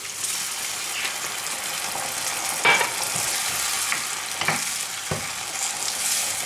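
Sausages sizzle loudly in a pan as white wine is added, a dense hissing crackle with a few sharper spits and pops, close by and with no voices.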